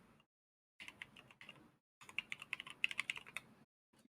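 Fingers typing on a mechanical keyboard fitted with SA-profile 9009 PBT keycaps, quick close bursts of clacky keystrokes separated by short silent pauses, with no talking.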